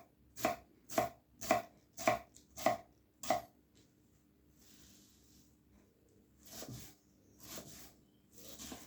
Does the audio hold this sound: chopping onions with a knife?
yes